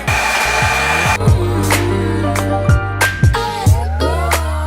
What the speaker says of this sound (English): very carefully I just basically blow dried the section there